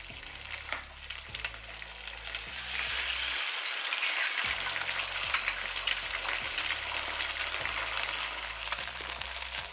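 An egg sizzles and crackles steadily in a hot frying pan, a close, continuous spitting hiss with a brief break partway through, no voices over it.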